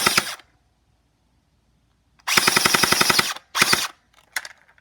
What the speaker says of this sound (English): this is full auto, or how fast it would be if it had BBs